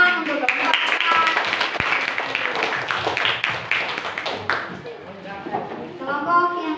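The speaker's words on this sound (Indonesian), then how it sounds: "Beri tepuk tangan untuk kelompok 4" Classroom applause for a student group after its presentation, a short burst of clapping from a small group that mixes with voices and scattered taps.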